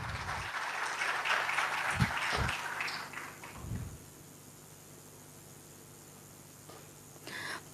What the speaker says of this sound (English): Let's have a huge round of applause as a welcome gesture.